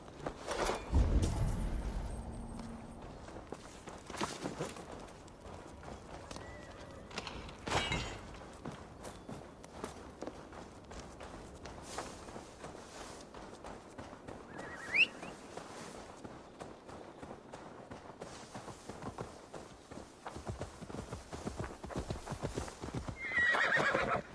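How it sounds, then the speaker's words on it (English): In Assassin's Creed Valhalla, hooves clip-clop at a steady walk, with a horse whinnying near the start and again later, over quiet background ambience. "Now to deliver Magni his horse."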